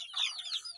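Native country chickens on a farm selling young birds give a quick burst of high, scratchy clucks and chirps, close by and lasting under a second.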